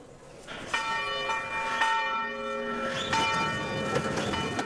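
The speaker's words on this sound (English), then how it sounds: "At 5 o'clock, the bell goes for delivering out to the outside customers" A market bell at a London fish market tolls at five o'clock, sounding several ringing strikes with long sustained overtones over a steady background hum, at moderate distance.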